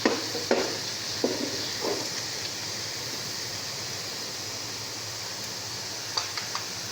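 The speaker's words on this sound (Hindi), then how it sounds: "ये देखें प्याज हमारा जो है ना लाइट ब्राउन हो रहा है" Onions fry in oil until light brown for beef pulao, a steady close sizzle broken by a few sharp clacks of a spoon stirring against the pot.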